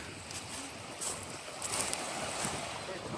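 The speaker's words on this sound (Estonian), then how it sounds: "Aga siin on liiv, siin on lained" Sea waves washing onto a cold-water sandy beach on the coast of Saaremaa, Estonia, heard as a steady broadband wash with gusty wind noise on the microphone and a few brighter surges.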